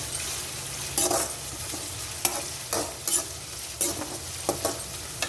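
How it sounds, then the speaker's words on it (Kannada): Onions frying with curry leaves in a pan for a simple chicken fry, browning in hot oil: a soft continuous sizzle broken by a series of crisp, close spatula strokes scraping the pan at uneven intervals, with no voices. "ಈರುಳ್ಳಿನ ಚೆನ್ನಾಗಿ ಕೆಂಪಿಗೆ ಹುರ್ಕೊಳ್ಳೋಣ."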